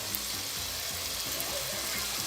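Beaten eggs are poured into potatoes frying in a pan and stirred with a spoon, giving a close, steady sizzle with faint scraping and no talking.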